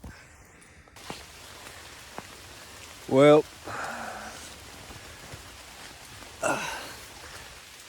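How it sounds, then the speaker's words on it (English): Steady rain patters on a makeshift shelter outdoors, a soft continuous wash with a few sharper drip hits, while a voice comes in briefly over it. "I don't think it's supposed to rain for that long"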